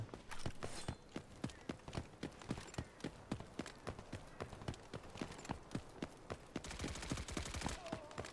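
Rapid gunfire from Delta Force Operations as a player fires on bots, with sharp repeated shots in steady bursts, some spaced and some tightly clustered, loud and close with a dense ringing tail.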